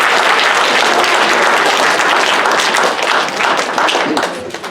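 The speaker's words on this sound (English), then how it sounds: "So let's also give a round of applause to Mrs. Lambert and Mrs. Gagnon for their hard work." A junior high school assembly gives a round of applause for two teachers: loud, dense clapping from a large audience fills the room, then thins slightly toward the end.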